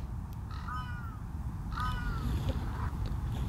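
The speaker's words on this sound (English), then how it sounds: "Look, Senpai, birds." Crows caw twice, about a second apart, in the Fate/Grand Order video game. The calls are moderately loud over a constant low rumbling ambience.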